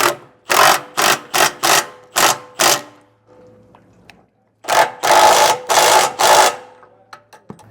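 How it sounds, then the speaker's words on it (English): Impact wrench driving 15/16 flange nuts tight on a MORryde GooseTech 5th wheel to gooseneck hitch conversion, loud and close: a rapid series of short hammering bursts, a pause with faint rattling, then four longer bursts and a few light clicks. "when tightening these down with the impact, you may not need that wrench on the backside"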